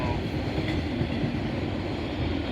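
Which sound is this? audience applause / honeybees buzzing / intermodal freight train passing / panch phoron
intermodal freight train passing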